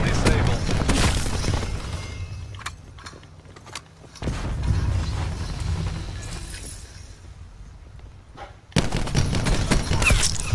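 Heavy gunfire from the video game Call of Duty Black Ops 4, with dense bursts of automatic shots and explosive booms that fill the clip, briefly dipping before resuming loudly; game voices speak over the action.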